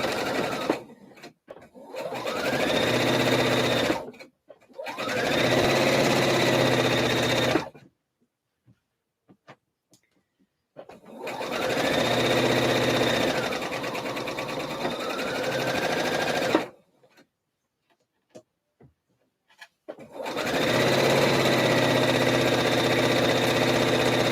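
A sewing machine stitches the hem of a slip dress in three long whirring bursts with rising and falling speed, separated by quiet pauses with faint clicks and handling, close and loud.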